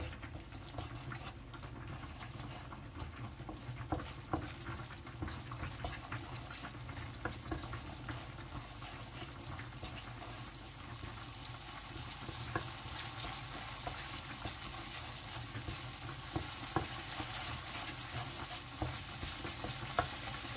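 Curry paste stir-frying in a pan, a quiet continuous sizzle with occasional scraping clicks of stirring throughout, heard alone with no voices.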